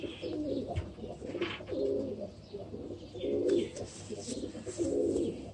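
Domestic pigeons cooing in repeated low, throaty phrases, several rolling coos in steady rhythm close by, with faint chirps and background noise between them.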